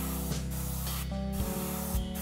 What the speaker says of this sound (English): I'm spraying it to the upper part of the lure, plus on the gill plates and eye sockets.